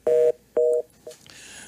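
A WhatsApp call being placed sounds two loud, even ringback tones in quick succession, followed by a brief click and a faint rising hiss.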